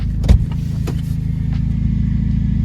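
A car engine runs loud and steady at idle, with a low rumbling drone and a couple of brief clicks near the start.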